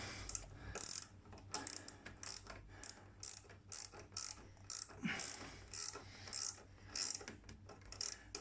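A ratchet tool clicks in short rapid bursts, close by and fairly quiet, while fittings on a fly screen bracket of a Royal Alloy GP300 scooter are tightened.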